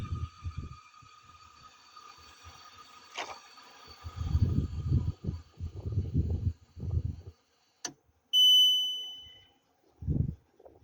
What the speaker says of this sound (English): it's beeping at me because the next batch of ice is finished